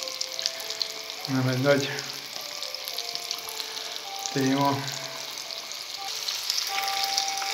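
Crucian carp fry in a pan with a steady hiss and crackle of hot oil throughout, while someone speaks briefly in Hungarian twice over the sizzling.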